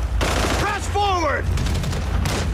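Gunfire in the GTA 5 video game, a burst of loud sharp shots crackling across the short stretch while someone speaks excitedly over it.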